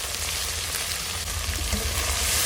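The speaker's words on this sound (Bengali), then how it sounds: "এখন মশলাটা খুব ভালো করে কষিয়ে নেব" Salt, turmeric, lentil powder and ground coriander sautéed in a pan for a katla fish-head murighonto, giving a continuous close sizzle and crackle with faint stirring scrapes.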